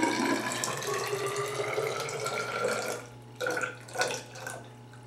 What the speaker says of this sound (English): Fill my graduated cylinder to 150 milliliters.